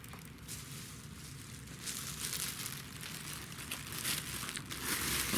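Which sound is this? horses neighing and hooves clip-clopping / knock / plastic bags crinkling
plastic bags crinkling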